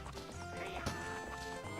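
Horse galloping in the video game Zelda: Ocarina of Time, with a busy rhythmic clip-clop of hooves under layered game music and effects, steady and fairly loud throughout.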